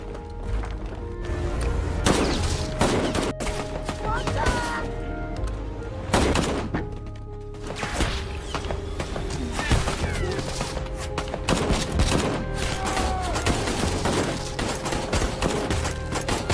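Dense gunfire rattles through a film battle between police and Zulu militants, with repeated sharp shots and bursts, some heavy thuds, and overlapping loud volleys throughout.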